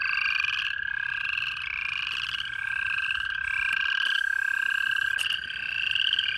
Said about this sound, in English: There's some toads successfully laying eggs.